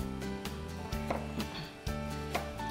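A knife cuts the ends off washed Roma tomatoes on a board, giving a few close, soft slicing strokes and light knocks against the wood over a steady low background hum.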